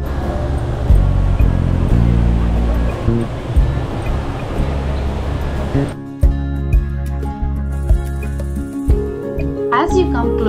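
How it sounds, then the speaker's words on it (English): An indoor waterfall in the Jewel airport complex gives off a dense, rushing wash of falling water that fills the first half, then thins into a quieter mix of background chatter and tonal ambience. "the rushing water sound and the cool mist gives an awesome feeling"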